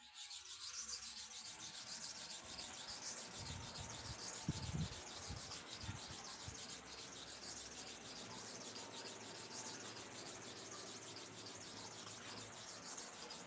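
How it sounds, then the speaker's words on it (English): A clipper blade is rubbed in steady back-and-forth strokes across a small sharpening stone, giving a faint, continuous rasping scrape with an even rhythm, close up. "So when we are sharpening here again, we use the whole surface of the stone to sharpen the second side"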